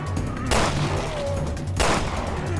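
Two loud, close gunshots land headshots on enemies in the video game Resident Evil: Revelations 2, spaced just over a second apart, each a sharp crack with a brief ringing tail over steady game ambience.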